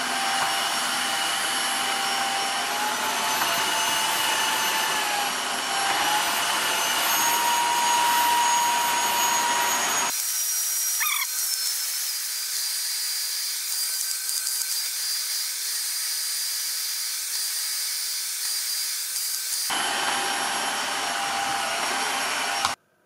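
A Dreame H11 Max cordless wet-dry floor vacuum runs on a floor stained with coffee and sugar, a loud steady motor whine with a brief pause midway before it resumes, then cuts off sharply at the end.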